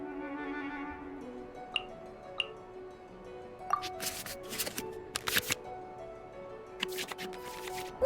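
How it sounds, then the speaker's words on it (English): Quick digital card-shuffling sounds, a series of soft flicks and riffles with short clicks and chimes, with no talking. "select any number of cards in our hand to shuffle back into the draw pile"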